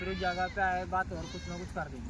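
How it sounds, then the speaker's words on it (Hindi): Rajasthani goats at an Eid market, including a Gujari buck, bleating in several wavering, nasal calls close by, overlapping one another in quick succession. "ये गुजरी बकरा ये भी बकरा है"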